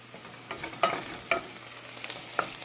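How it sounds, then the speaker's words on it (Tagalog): Onions sauté in a pan with a low continuous sizzle, broken by several sharp scraping clicks and taps as a utensil stirs them. No one speaks. "binigisa ko po yung sibuyas"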